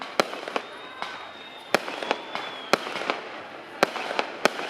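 Fireworks pop and crack in scattered sharp bursts, some distant and some closer, with faint voices murmuring in the background.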